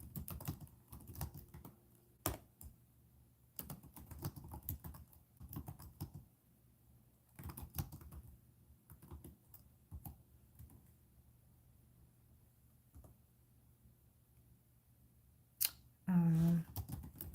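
Quick bursts of typing on a computer keyboard come in clusters with quiet pauses between them, close and crisp, ending with a brief louder sound.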